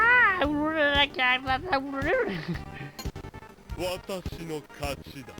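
A cat meows several times in quick succession at close range, with drawn-out rising and falling cries, followed by busy game sounds and someone talking.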